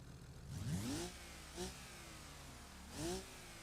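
Car engine with custom exhaust revving in a BeamNG driving game mod: a long rising rev near the start, then a short blip and another rev, separated by idle rumble.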